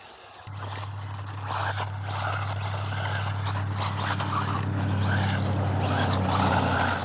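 A WLToys 124016 brushless 1/12-scale RC car running on sand: a steady electric motor whine that kicks in after a brief pause and rises slightly as it drives, with gritty scuffing bursts over it.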